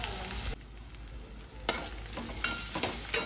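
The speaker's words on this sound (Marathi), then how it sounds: "कमी गॅसवर आपल्याला कांदा ट्रान्सपरंट करून घ्यायचा आहे" Chopped onion frying gently in a pan over a low gas flame until translucent, a steady soft sizzle broken by a few louder stirring scrapes, close by with no talking.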